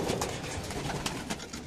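Racing pigeons from a 2024 North Race series coo softly inside their loft, a faint, continuous murmur of repeated low calls with no talking.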